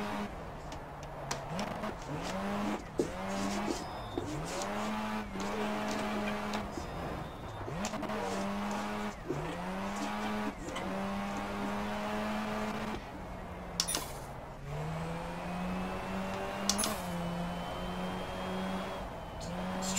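Simulated car engine in the racing game rFactor with a turbo blow-off valve, revving up and down in repeated pulls with hisses between shifts, close and steady throughout.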